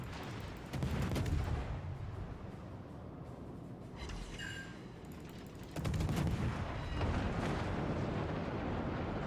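Naval guns of warships in World of Warships boom out over an island, a rumbling barrage of distant heavy shots that swells, dips for a few seconds, then surges back louder, with no talking.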